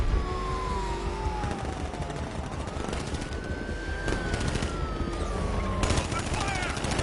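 Enemy gunfire in the Batman Arkham Knight video game, rapid automatic bursts crackling over a busy mix of sliding tones and engine or siren-like whines, fairly loud and continuous for several seconds.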